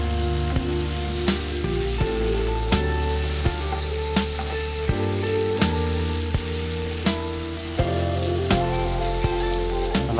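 Tiger prawns fry in a pan with a steady, busy sizzle, and light clicks from stirring recur every second or so. The sound is close and continuous, with no voices.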